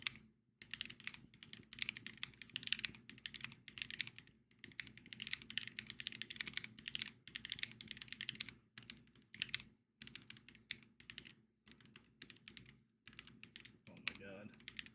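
Typing on a custom-built Mode Encore X-ray Edition mechanical keyboard, a fast run of crisp clacking keystrokes in bursts with brief pauses.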